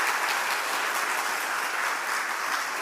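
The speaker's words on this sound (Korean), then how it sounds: "같이 박수 한번 해드리겠습니다." A church congregation applauds together during a dedication and ordination service, an even, sustained burst of clapping that is moderately loud and carries on without talk.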